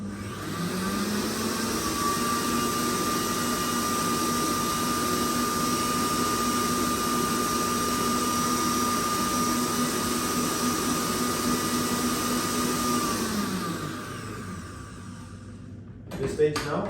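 An electric mixer whisks a chocolate sour cherry brownie mixture, a steady, close motor whine that holds evenly for about thirteen seconds and then winds down and stops.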